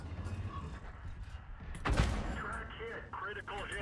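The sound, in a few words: heavy tank cannon firing in a tank video game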